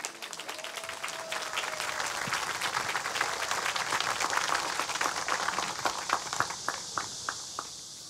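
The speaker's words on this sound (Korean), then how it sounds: "힘찬 박수 부탁드립니다." Audience applauding at a National Assembly unveiling ceremony for an independence memorial plaza in Korea, steady dense clapping from a large crowd lasting throughout, tapering slightly at the end.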